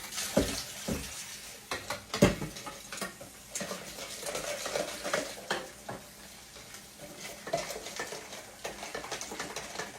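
A kitchen sink tap runs water into a pitcher, a gallon's worth for a home cooking session, giving a continuous splashing, gurgling rush with irregular clatters, close and moderately loud, without speech.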